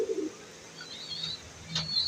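Pigeons in a home loft give low, soft coos at the start, followed by a few fainter, higher chirps and calls nearby.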